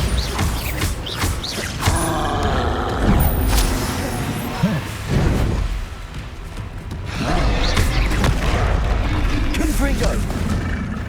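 Repeated Bombarda spell blasts in Hogwarts Legacy, heavy booming explosions with crashing debris recurring across the stretch, loud and dense with game combat noise and shouted incantations mixed in.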